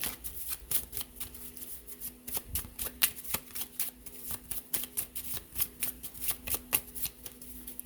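Playing cards are riffled and shuffled repeatedly at close range, a steady run of crisp ruffling bursts and snaps with no talking.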